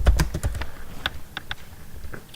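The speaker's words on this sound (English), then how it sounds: "type in blur black circle" Fingers tapping keys on a computer keyboard in a quick, uneven burst of close clicks, with a few sharper keystrokes toward the end.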